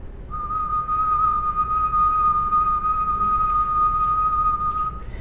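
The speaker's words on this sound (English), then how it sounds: "I can make that picture look a lot simpler if I were to just like whistle" A person whistles a single steady pure tone held for about five seconds, close and fairly loud, with slight wavering in volume over a quiet room background.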